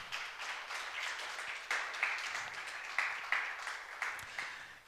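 A church congregation claps in praise, rhythmic bursts of applause with regular accented peaks, moderately distant and fairly quiet.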